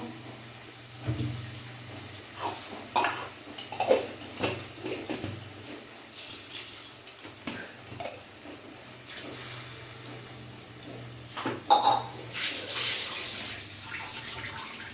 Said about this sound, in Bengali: মিক্সি বাটিটা ধুয়ে আমি একটু জল অ্যাড করে দেবো